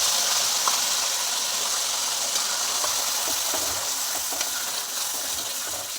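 Onion paste frying in a pan while being prepared for a chole dish, giving a steady, close sizzle and hiss throughout with faint scraping from stirring.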